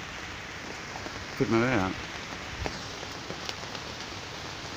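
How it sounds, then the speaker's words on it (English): Steady rain falls on a surface outdoors, a constant hiss of drops throughout, with a voice talking briefly over it. "Raining. Det regner."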